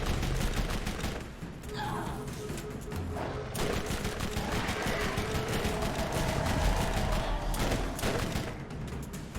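A shock weapon fires in the video game Borderlands, a continuous stream of rapid crackling shots with electric buzzing texture, loud and near, running almost without pause.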